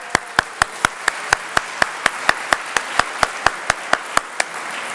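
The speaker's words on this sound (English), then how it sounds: "Like, round of applause for that." An audience at an honors convocation applauds, though what is heard is a single steady clap repeated roughly every quarter second for five seconds, crisp and evenly spaced, rather than a crowd.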